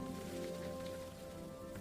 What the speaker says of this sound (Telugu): బయట వర్షం మెల్లగా పడుతోంది.